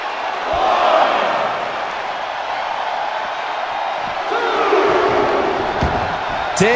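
Arena crowd in a WWE 2K25 wrestling match roars and cheers steadily throughout, swelling in waves with occasional impacts and shouts over the sustained noise.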